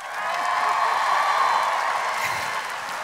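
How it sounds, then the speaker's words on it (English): A conference audience greets the women seated on a couch onstage with a sustained round of clapping and some cheering, filling the hall at steady volume for a few seconds before easing slightly. "Can we get a round of applause for"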